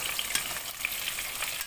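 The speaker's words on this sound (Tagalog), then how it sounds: "I-fried muna natin siya hanggang mag-brown." Sliced sweet potato (kamote) fries in hot oil for camote cue, a steady close, dense sizzle and crackle with small pops throughout and no voices.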